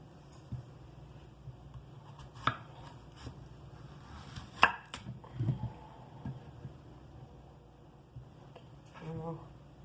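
A kitchen knife cuts zucchini on a cutting board for homemade chicken soup (caldo de pollo), with a few sparse, distinct chops spread out among quiet handling noises.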